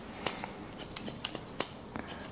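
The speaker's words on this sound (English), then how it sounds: "I like the sound of the scissors." Scissors snipping short grey hair during a buzzcut, a quick run of crisp, close metallic clicks at an irregular pace, each snip sharp and bright against a quiet room.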